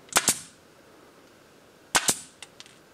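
An air-powered nail gun fires rapidly into a cardboard box: two sharp double bangs about two seconds apart, then a few quicker, softer pops trailing off, each loud and close with quiet hiss between.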